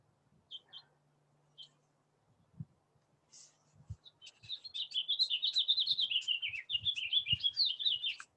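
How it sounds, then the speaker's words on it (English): Birds chirp outdoors, starting with a few scattered, faint high tweets and then building to a rapid, continuous run of close chirps in the second half, with occasional low thumps and rustles and no talking. "I hope you can hear the birds here."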